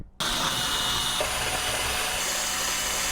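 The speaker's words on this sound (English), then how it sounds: "I have my trusty dusty Ferrix screwdriver that I picked up at Aldi." A handheld Ferrix screwdriver turns the case screws out of a Commodore 64 with steady scraping and grinding that starts abruptly. It sounds close and fairly loud, and nobody speaks.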